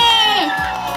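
A television studio audience bursts into a brief, loud cheer with whoops and shouts, fading slightly over a second.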